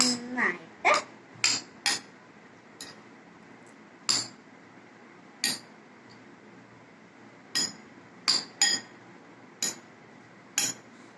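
Tapioca is stirred in a pot, and a utensil clinks sharply against the pot in irregular taps spread across the stretch over a quiet background.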